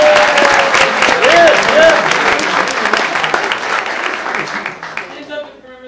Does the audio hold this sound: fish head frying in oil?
no